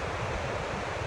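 Heavy rushing water of the McKenzie River pouring through Leaburg Dam, a steady broadband roar that fills the whole second without pause or voices.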